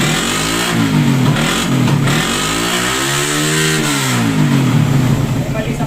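A carbureted motorcycle engine that misfires and lacks power revs up and down repeatedly in rising and falling swells, close by and loud.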